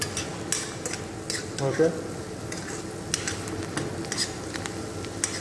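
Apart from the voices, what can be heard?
sauteing onions, stirring in a pan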